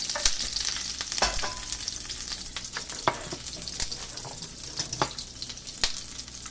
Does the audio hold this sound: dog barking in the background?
no